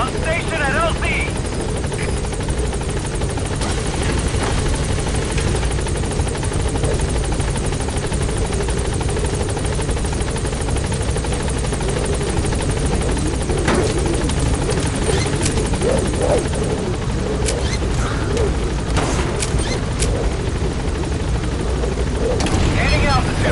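A helicopter in the video game Metal Gear Solid holds a loud, continuous rotor drone throughout, with radio-style voices speaking over it.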